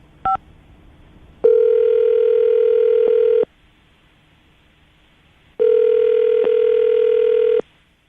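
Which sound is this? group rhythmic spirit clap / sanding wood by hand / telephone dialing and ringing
telephone dialing and ringing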